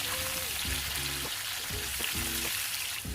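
Pumpkin pieces frying in oil, salted and cooked until golden brown for a Bengali braised pumpkin with potato dish, giving a steady, close crackling sizzle throughout with a low voice murmuring underneath.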